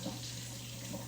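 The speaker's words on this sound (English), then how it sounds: "So we'll run hot water around the edges of it just for a few seconds." Hot water runs from a tap around the sides of a pint container of frozen protein ice cream, a soft, steady splashing hiss heard up close for a brief moment.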